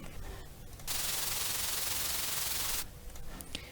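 A burst of synthesized white noise from a 3x oscillator plugin cuts in abruptly, holds as a loud, steady, hissing wash for about two seconds, then stops sharply. Quieter textured sound surrounds it.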